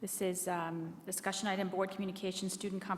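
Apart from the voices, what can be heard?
No everyday noises stand out.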